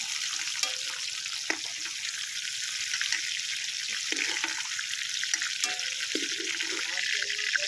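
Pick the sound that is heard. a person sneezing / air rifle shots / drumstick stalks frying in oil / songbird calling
drumstick stalks frying in oil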